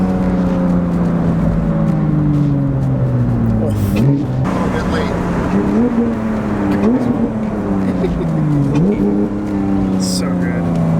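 New car accelerating hard in launch mode, a loud continuous engine roar rising in pitch through several gear shifts, heard from inside with people talking over it.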